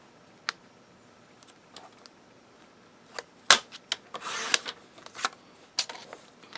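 Paper pieces being cut for a craft project: scattered soft clicks and snips with a brief rustling swipe midway, close and fairly quiet, with no talking.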